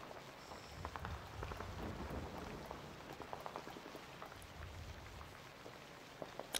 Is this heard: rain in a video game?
yes